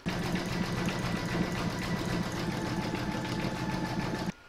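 An embroidery sewing machine stitches a zigzag around a circle on an in-the-hoop table topper, a loud, steady rapid mechanical whirr with fast needle rhythm that runs unbroken, then stops abruptly near the end.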